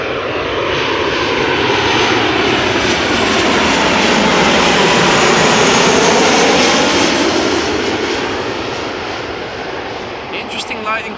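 KLM jet airliner arriving at Amsterdam Schiphol from Milan, passing close overhead: a loud engine roar swells to a peak and sweeps down in pitch as it goes by, then fades, with a voice talking over it.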